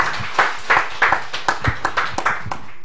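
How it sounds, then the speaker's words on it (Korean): A church congregation at a Christmas worship service claps along in a steady rhythmic beat, about a dozen sharp loud claps filling the room. "우리 하나님께 큰 영광의 박수 한번 더 올리겠습니다."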